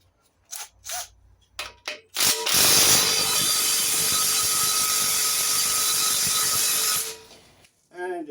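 Ratchet wrench with an impact socket cranking on a rusted MGB tube axle: a few short clicks, then a loud sustained ratcheting burst for about five seconds, close up, fading out at the end.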